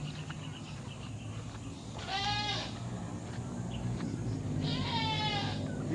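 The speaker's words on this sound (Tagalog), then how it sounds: "ito yung mga ilang natira ko mga kambing" Free-range farm goats bleat twice, with two wavering calls a few seconds apart from nearby animals, over a steady outdoor background hum.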